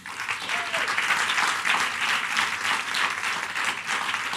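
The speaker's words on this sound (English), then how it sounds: "Please join me in giving Dr. Huriya, I think she just stepped out, Shivani, Mary, and Candy a hand of applause, please." An audience claps steadily for the guests of a breast cancer panel, with dense, sustained applause filling the room at an even level throughout.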